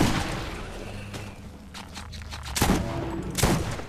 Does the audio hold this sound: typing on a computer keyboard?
no